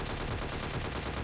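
Rapid gunfire in the Scarfall battle royale game while knocking down an enemy, a dense, unbroken burst of automatic shots filling the whole moment, loud and continuous.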